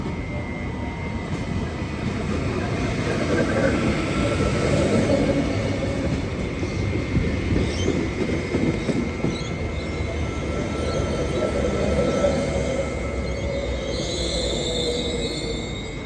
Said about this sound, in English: we've got a beautiful old V-set arriving onto platform 2 here at Strathfield